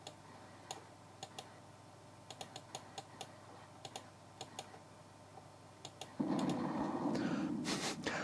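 Computer keyboard keys tapped one at a time at an irregular pace to steer a 3D landscape game on an Amiga, faint and close, before a louder steady noise takes over near the end.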